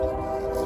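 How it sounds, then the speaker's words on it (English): A Norfolk Southern southbound intermodal freight train approaching, heard as a sustained loud horn tone over a low rumbling engine drone, continuous and fairly close across the whole short moment. "we then see our last train, which is Norfolk Southern southbound intermodal train 21N"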